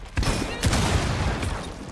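Gunfire in Rainbow Six Siege during Outbreak mode, a sharp burst of shots opening the moment and then a steady rattle of game noise and echoes holding loud for the rest of the stretch, with no voices.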